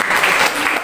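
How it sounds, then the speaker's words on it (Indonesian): Church congregation applauding during a sermon, a dense steady burst of clapping filling the short moment with no speech over it. "Tepuk tangan dong."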